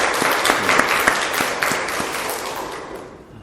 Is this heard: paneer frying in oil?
no